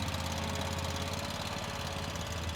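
A cultivating tractor used on a small vegetable farm runs steadily, its engine giving a loud, continuous droning rumble with a knocking idle texture and no voices.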